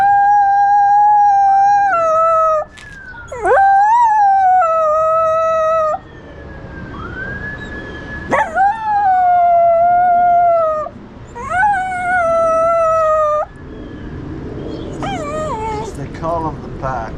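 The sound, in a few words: dog howling at a distant fire truck siren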